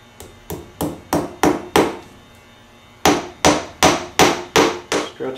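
A hammer drives upholstery tacks into a chair frame through a cardboard template, sharp ringing blows in an even rhythm, six strikes, a pause, then another run of six, loud and close with no talk.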